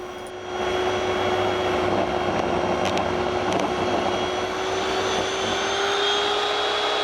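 Table saw ripping pallet wood to thickness, with a multi-material blade that cuts through embedded nails; a loud, steady whining roar spins up and holds for several seconds, with no talking.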